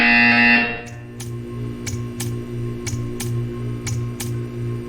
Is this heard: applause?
no